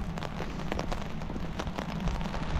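Steady rain pours down outdoors on a street, a dense continuous patter of drops on the ground with a few heavier splashes, close and even throughout with no voices.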